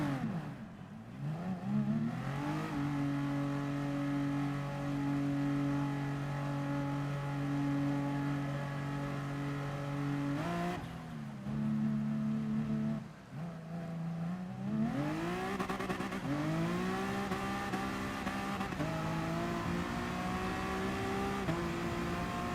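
Race car engines in the GT Sport video game, Porsche, Hondas, Mercedes, Alfa Romeo and Audi in the field, droning steadily, then dropping off and rising again as revs climb, loud and continuous with no talk.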